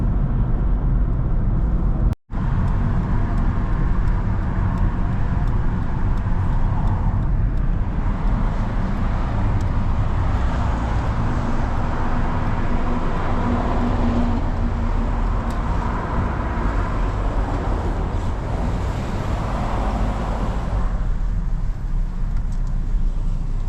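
A car drives along a road near Kyiv, with a loud continuous engine and road rumble inside the vehicle, broken by a brief dropout early on.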